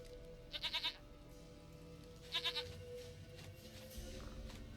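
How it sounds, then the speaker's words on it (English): A goat in The Witcher 3 gives two distinct wavering bleats about two seconds apart, fairly close and clear over quiet game ambience and faint background tones. "Goat of mine, dearest,"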